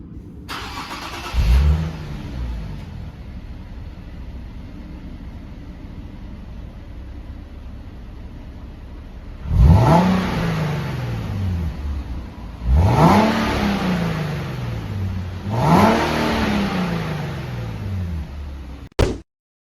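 A stock Nissan 370Z exhaust heard up close: the engine cranks and fires into a rising rev, idles steadily, then three sharp throttle blips swell and fall back to idle before it shuts off.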